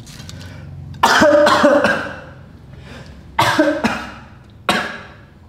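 A person coughs and clears their throat in a few sharp, close bursts, two clusters of rough coughs separated by brief quiet, then a single final cough.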